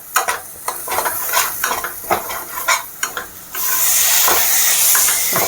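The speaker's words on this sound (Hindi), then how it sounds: "टमाटर को भी साथ ही साथ हम भूनेंगे, पकाएंगे कि टमाटर हमारा बिल्कुल अच्छे तरह से गल जाए" Tomatoes stirred with turmeric in a hot pan for chole: a run of scraping spoon strokes against the pan over soft frying, then a steady loud sizzle takes over for the last couple of seconds, close up.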